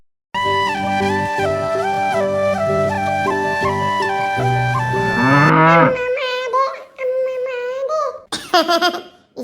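A cow lets out drawn-out moos after a stretch of loud music, with giggling and a child's laughter mixed in near the end.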